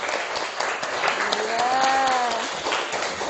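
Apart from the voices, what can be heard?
classroom applause for group 2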